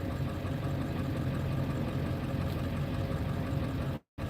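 A truck engine idles close by with a steady low rumble and slight knocking texture, running evenly until it drops out abruptly near the end.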